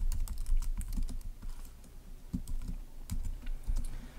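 A command being typed into a terminal on a Mac computer keyboard, steady quick keystroke clicks at close range over a low background hum, no talking.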